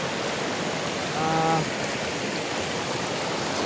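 A creek flows somewhere below a hillside, producing a steady broadband rush of running water that holds even throughout, with a brief faint tonal whine rising just above it near the middle.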